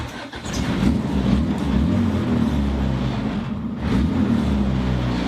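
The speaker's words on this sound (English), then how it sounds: "I'm gonna do a burnout." A cheap high-horsepower Honda Civic doing a burnout, its engine holding a loud, steady, close drone with a brief dip and surge near the end, with no voices.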